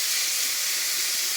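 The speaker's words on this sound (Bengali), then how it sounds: "মশলাটাও তেল ছেড়ে দিয়েছে, নেড়ে ছেড়ে এবারে আর একটু ভালো করে কষিয়ে নেব" Spice paste fries hard in hot oil in a wok, a steady, loud, bright sizzling hiss that holds evenly throughout the short stretch without voices.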